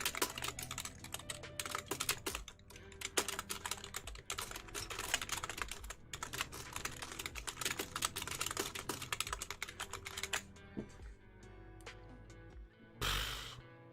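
Rapid, uneven clatter of keys on a computer keyboard during a live stream, continuous typing for most of the stretch before easing off, with a short louder burst near the end.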